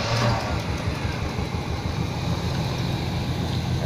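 A car engine runs steadily after STP engine treatment has been poured into the carburetor, giving a continuous low rumble that stays loud and close for the whole stretch.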